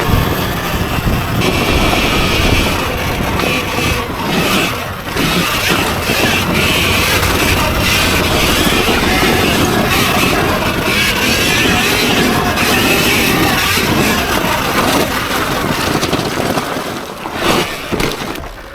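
A fully upgraded Sur-Ron electric dirt bike ridden at full throttle, heard as a loud, sustained rush of motor whine and heavy wind buffeting on the microphone, steady for most of the run before easing off near the end.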